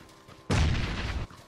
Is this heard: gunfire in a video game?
yes